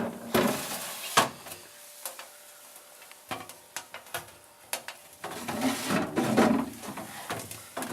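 Freezer drawers in a Miele fridge freezer pulled open and pushed shut, a series of sharp plastic knocks and sliding rattles with a faint hum between them, close by, no talking.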